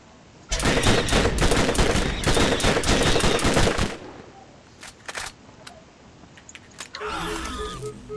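Bursts of rapid automatic gunfire from Borderlands crackle loud and close for several seconds, then give way to a few sparse isolated shots and a final clattering flurry.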